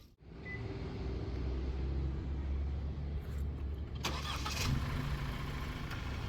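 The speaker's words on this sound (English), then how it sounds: "I'm gonna be starting up the car" A Genesis GV70 SUV starts up with a low, steady engine rumble close by. A brighter burst of sound rises partway through over the even idle, and no one speaks.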